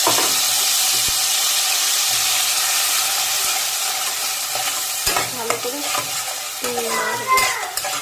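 Ground spice paste hits hot oil in a pan with a loud steady sizzle, then is stirred with scraping utensil strokes and clinks; a voice speaks briefly.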